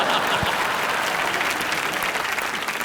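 Studio audience at a live Indian comedy show bursting into applause, a dense, steady wash of clapping hands that stays loud and even throughout, with no voices on top.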